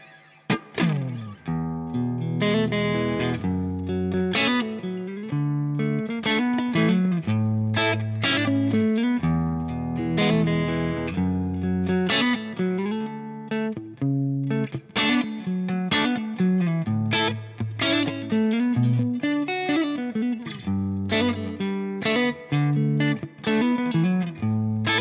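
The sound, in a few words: electric guitar through high-gain tube amp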